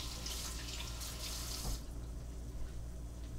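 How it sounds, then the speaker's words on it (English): A kitchen tap runs steadily as a knife is rinsed under it while cooking seafood pasta, a continuous close splashing wash that cuts off abruptly near the end and leaves a quieter background. "while I wash this knife"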